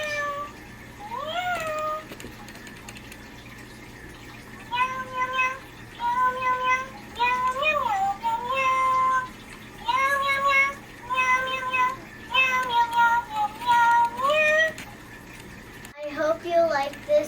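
A Smitten Kitten toy cat, pressed on the paw, gives a long run of electronic meows and chirpy cat calls in short bursts, fairly close and loud, with brief pauses between phrases.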